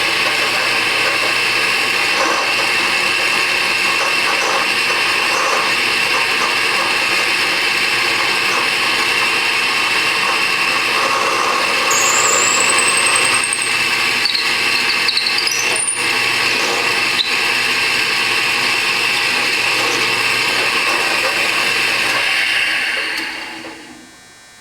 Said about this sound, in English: And now I'll put the second hole in the handle here.